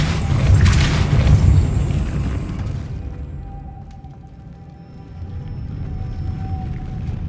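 Depulso spell cast in a Hogwarts video game, a deep booming whoosh that swells loud then fades into a low rumbling tail.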